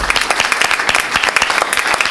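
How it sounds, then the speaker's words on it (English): A school board meeting audience claps for campus principals, a dense, loud burst of applause from a room full of people, continuous and close throughout the short stretch. "Another big round of applause before we take a picture."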